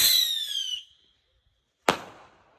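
A bottle rocket fired from a liquor bottle whistles loudly as it lifts off, the shrill tone fading within a second, then a sharp bang follows after a short pause, with no voices during it.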